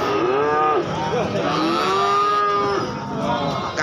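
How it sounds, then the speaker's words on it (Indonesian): Limousin cattle at a cattle market in Gorang Gareng, Magetan, give a long, loud, close moo with a wavering low pitch over steady background market noise. "Ada sapi limusin."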